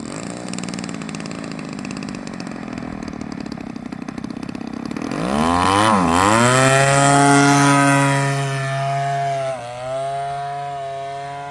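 The brand-new engine of a giant Stick model airplane buzzes at a steady idle, then surges up by itself into a loud, rising whine that holds and wavers before dropping back, close and with no talk.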